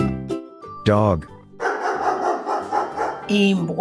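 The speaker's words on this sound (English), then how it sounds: "Dog." A short dog bark sound sits among spoken animal names in a children's Shona vocabulary lesson, a brief loud burst followed by talk and light music.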